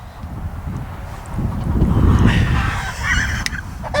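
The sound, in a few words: chickens squawking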